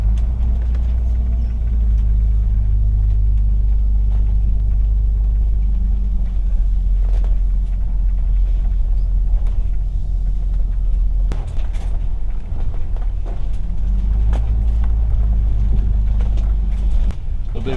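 A vehicle pulls out of a dry campsite near Silver Creek, Idaho, with a loud, steady low engine and road rumble heard from inside the cab, plus wind buffeting and faint rattles.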